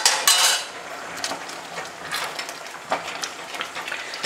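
Risotto alla milanese being stirred in a pot: repeated light metallic scrapes and clinks of a utensil against the pot, irregular and close, over a soft background hiss.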